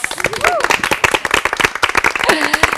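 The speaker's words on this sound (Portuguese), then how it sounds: "Gostaria de aplaudi-las." Audience applause on a television programme filmed with elderly participants at the Estadual, sharp claps mixed with cheering voices and occasional whoops rising over the crowd, lively and close.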